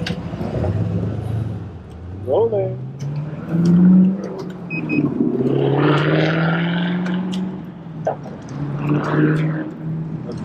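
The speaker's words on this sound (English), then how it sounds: "The first thing I'd do if I had that car is get that exhaust fixed." A car with a loud, faulty exhaust rumbles steadily for about ten seconds at a bike event, the engine drone swelling and holding near the listener, with brief voice fragments around it.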